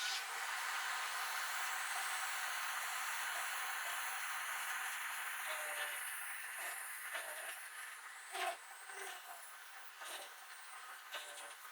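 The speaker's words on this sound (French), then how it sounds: "J'active mon aspirateur." A vacuum cleaner runs steadily as a broad, even hiss, loud at first and easing slightly later, with a few brief clicks and knocks near the end; no one speaks.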